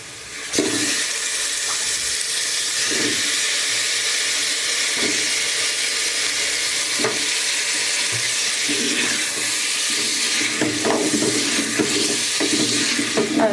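Potatoes frying with onions in a pan for sarson ka saag, a steady loud sizzle with repeated scraping stirs throughout.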